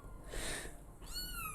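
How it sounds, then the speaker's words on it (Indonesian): A kitten meows a few times, high and thin, close by and fairly quiet, with faint background hiss. "kalau aku dengar suara kitten itu suara kucingku ya"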